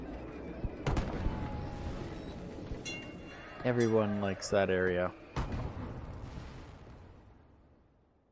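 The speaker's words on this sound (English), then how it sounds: "And the mall fireworks." Fireworks at a mall in Cities Skylines go off as scattered booms and crackling bursts, moderately loud, while someone talks over them; the sound fades toward the end.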